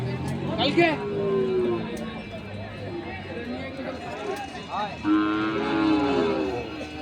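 Sahiwal bull calves at a livestock market in Ambari bellow in two long, loud moos, one early and one later, over steady crowd chatter and people talking nearby.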